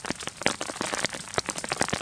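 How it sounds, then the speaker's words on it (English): Close, busy patter of rain hitting a camping shelter in an alpine lake backcountry storm, irregular sharp drops in quick succession, alone without talk. "I hope this rain turns off,"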